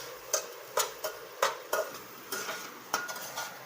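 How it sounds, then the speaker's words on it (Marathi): Ground masala for kat vada being fried in oil while a spatula stirs it, with repeated scraping knocks against the pan over a soft sizzle, heard close up. "आता हे चांगलं तेल सुटेपर्यंत असं परतून घ्यायचं आहे"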